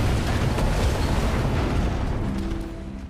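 A deep, sustained explosive rumble of a missile destroying a ship roars loudly throughout, slowly fading toward the end with a faint low hum emerging.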